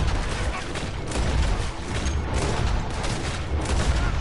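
Gunfire from a shootout in the Red Dead Redemption 2 video game, a dense run of overlapping shots and booms over a steady rumble, continuing loudly throughout without pause.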